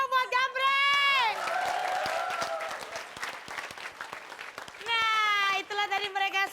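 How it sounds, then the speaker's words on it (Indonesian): Audience applause for Gambreng's performance on an Indonesian TV comedy show, steady clapping mixed with crowd noise, with musical tones at the start and end. "kita kasih tepuk tangan dulu dong buat Gambreng."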